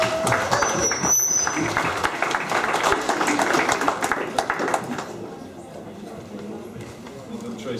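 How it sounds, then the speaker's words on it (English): Applause from an audience at a Dragonflies Den pitch event, dense clapping for about five seconds that fades off, with a voice speaking over the start and quieter room sound after. "Another round of applause"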